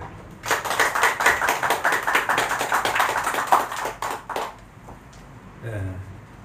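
Congregation in a church anniversary service claps together for about four seconds, a steady dense patter that stops abruptly, followed by a brief voice.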